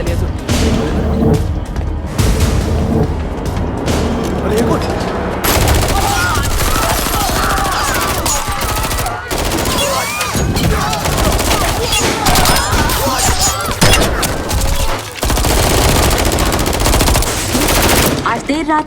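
Indiscriminate gunfire rips through a hospital attack scene in Haseena Parkar, sustained loud automatic bursts and rapid shots with brief pauses and crashing impacts, close and dense throughout.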